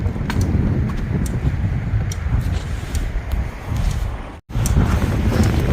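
Strong wind blasts across a snowy lakeshore, roaring and buffeting the microphone in a loud, continuous rush, with one brief dropout near the end.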